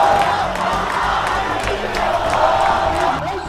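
Large crowd of protesters in Jordan shouting slogans together, a dense roar of voices with rising cheers and whoops, steady and loud from start to finish.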